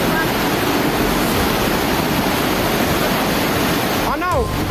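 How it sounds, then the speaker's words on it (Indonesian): The Cilaki River raging in heavy rain: a loud, continuous roar of rushing water fills the clip, broad and unbroken, with a brief high whistling chirp near the end. "Sungai Cilaki lagi ngamuk. Hujan di atas, hujan gede."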